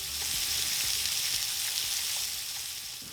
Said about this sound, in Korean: 소세지를 먼저 굽습니다.